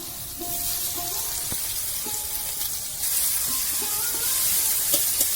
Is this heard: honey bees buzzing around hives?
no